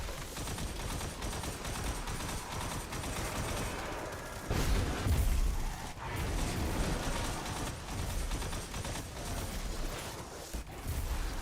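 A grenade blast in the Destiny video game hits as a loud, heavy burst in the middle, set within a continuous bed of dense gunfire and combat noise.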